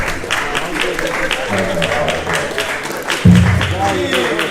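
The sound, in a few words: applause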